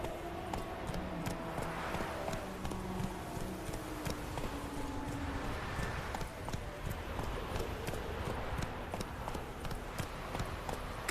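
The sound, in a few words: horse Roach trotting in video game The Witcher 3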